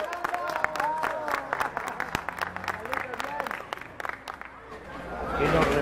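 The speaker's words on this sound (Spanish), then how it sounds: "¡Aplauso! ¡Aplauso! ¡Aplauso!" An outdoor concert crowd in Pauna, Boyacá, claps and cheers amid chatter, a busy stream of hand claps under a talking voice, swelling louder toward the end.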